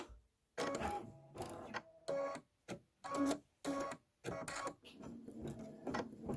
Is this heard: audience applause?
no